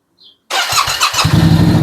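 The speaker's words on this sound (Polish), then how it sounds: "Tomek chce odpalić motor." A Yamaha Tenere 700 motorcycle engine starts abruptly after a brief quiet moment, firing with a loud burst and settling into a close, rapid, pulsing idle.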